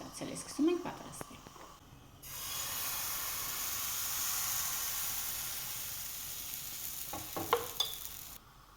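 Crepe batter hits a very hot pan and sets off a loud, steady sizzle lasting several seconds. A few utensil clinks and light knocks come before it and just after it.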